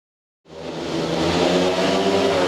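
Speedway motorcycles roar off the start line together after a moment of silence, engines swelling into a loud, sustained buzzing drone as the race begins.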